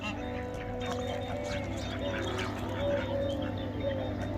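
Ducks and geese at Al Qudra Lake near Dubai, with several short quacking calls repeating over a steady outdoor background, moderately close and clear throughout.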